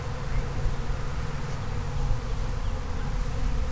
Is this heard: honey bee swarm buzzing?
yes